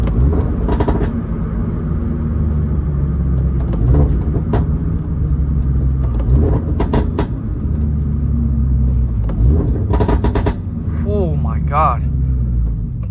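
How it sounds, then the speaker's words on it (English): A Toyota GR86 exhaust rumbles steadily from inside the moving car, with sharp pops and crackles breaking through at intervals, while a person talks over the engine noise. "You can hear a lot more of the pops and bangs, and you can hear more of the exhaust."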